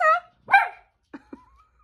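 A young dog gives a couple of high, sharp barks and yips up close, followed by a few softer whimpering sounds trailing off into quiet.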